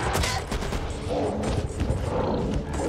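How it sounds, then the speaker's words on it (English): Assault rifle fire in the zombie shooter Back 4 Blood, with rapid bursts of shots crackling close by over a rumbling game background. "Assault rifle!"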